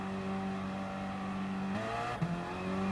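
Gr.4 race cars idle and rev on the grid at Lago Maggiore West in Gran Turismo Sport, a continuous engine drone with rising pitch as the race starts and a brief shift near the end.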